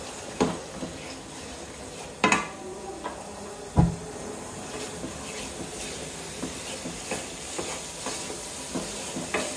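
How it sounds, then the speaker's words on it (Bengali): Thick blended spice paste of black pepper, nutmeg, mace and poppy seeds being stirred and sautéed in a pan for beef curry, giving a soft steady sizzle with a few sharp scraping knocks of the utensil against the pan. "এখন এটাকে ভালো করে কষাবো।"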